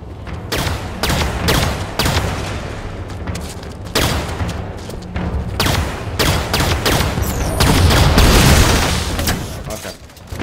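Heavy gunfire in Halo 5: Guardians aimed at a shield generator, a relentless barrage of loud rapid shots and booming impacts rolling on without pause, swelling toward the end.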